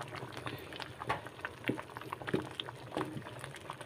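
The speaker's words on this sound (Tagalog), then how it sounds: "Kumulo na ng kumulo." Monggo stew with chicharon bubbles in a pot, a soft steady simmer of popping bubbles and small splashes, fairly quiet and close.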